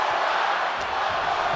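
Arena crowd in the WWE 2K24 wrestling game roars in a dense, loud, continuous wash of cheering and shouting that fills the whole stretch.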